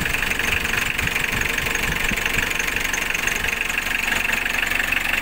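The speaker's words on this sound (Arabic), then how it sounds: "الموتور يرعش" A rebuilt car engine idles roughly, its steady mechanical rumble carrying a continuous knocking, shaking vibration at close range with no talk over it.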